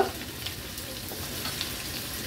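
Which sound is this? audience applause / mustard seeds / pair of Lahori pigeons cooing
mustard seeds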